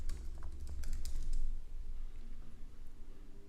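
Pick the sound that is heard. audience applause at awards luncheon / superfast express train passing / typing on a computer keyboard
typing on a computer keyboard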